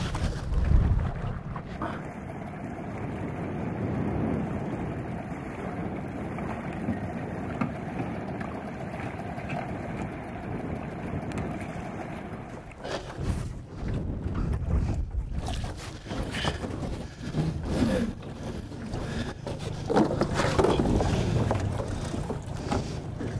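A fishing boat engine drones on the water during net fishing, a steady low rumble masked by heavy wind buffeting the microphone throughout.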